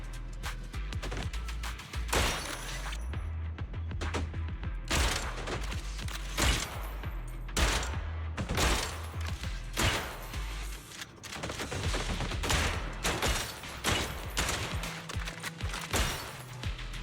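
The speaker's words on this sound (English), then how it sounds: "Holding this rapid fire." Rapid-fire gunshots in the action game Zenless Zone Zero: dense, continuous bursts of sharp shots with impact thuds and mechanical clatter, sustained at a steady, moderate level throughout.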